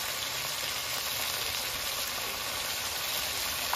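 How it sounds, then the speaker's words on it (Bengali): Spice paste of poppy seed masala with salt, turmeric and a little water frying in a pan for a vegetarian paneer curry: a dense, loud, unbroken sizzle that stays even throughout, with no voices. "এবার মশলাটাকে ভালো করে কষিয়ে নেবো"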